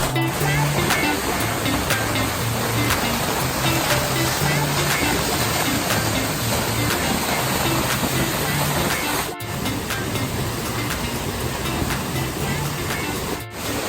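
Powerful roar of Hardraw Force waterfall in Yorkshire heard from behind the falling water, a loud, constant broadband rush with a faint tonal hum underneath.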